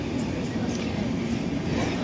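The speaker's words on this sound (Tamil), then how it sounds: "ட்ரெயின் போய்கிட்டு இருக்கு." Train pulling out of a station, a steady dense rumble with rolling wheel noise that stays loud and near throughout, no pause in the motion.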